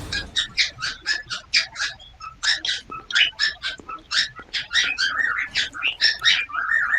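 A bird in the Roblox horror game Forgotten Memories chirps in a steady string of bright, repeated two-note calls, clear and fairly close, over a quiet background.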